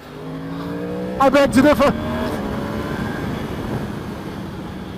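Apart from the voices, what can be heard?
Yamaha R1M motorcycle riding on the road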